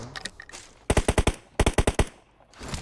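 Two quick bursts of automatic gunfire in PUBG Mobile, about five loud, evenly spaced shots each, separated by a short pause, over faint background game noise.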